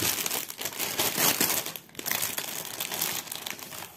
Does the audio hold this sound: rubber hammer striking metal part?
no